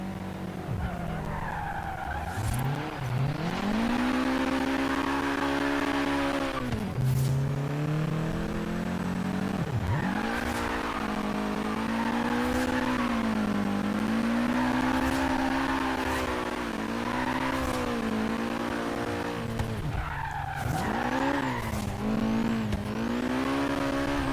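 A Nissan Silvia S13 making 350 horsepower drifts through the countryside in Forza Horizon 3, its turbocharged engine droning and rising through the revs with shifts, while tires squeal and skid continuously throughout.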